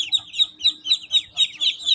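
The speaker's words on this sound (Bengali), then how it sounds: "এগুলো সব চীনা হাঁসের বাচ্চা।" Chinese duck ducklings on a farm give rapid, high-pitched peeping calls, about eight short bursts in two seconds, close and steady with no talking.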